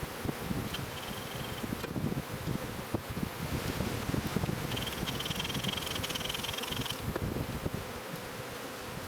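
Dense, steady buzzing of many honey bees close by at a hive, a constant droning hum with occasional higher whines, and faint rustling throughout.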